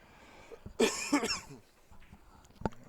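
A single sharp cough bursts out close to a microphone at a 9-ball pool championship, followed by a brief throat-clearing rasp, then quiet with a faint knock near the end.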